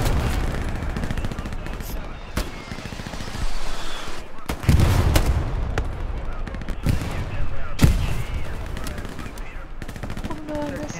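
Machine gun fire in Hell Let Loose on a beach battlefield: steady crackling bursts of automatic gunfire with several heavy, sharp shots and a deeper boom, loud and continuous, a voice talking over it.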